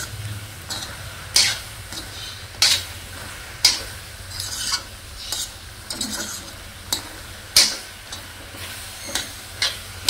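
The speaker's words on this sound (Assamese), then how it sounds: "ভালদৰে লৰাই থাকিব যাতে মছলাটো গোটেইখিনিতে লাগি ধৰে" Olive pickle with spices being stirred in a pan over a gas flame, cooked down until no water is left, with a soft sizzle beneath regular, sharp scraping strokes, close and alone.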